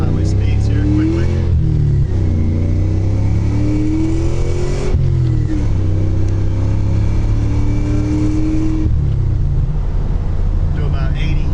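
A supercharged 1997 Ford Mustang Cobra accelerates hard to highway speed, its engine loud and close, climbing in pitch through several gears with clear breaks at each shift.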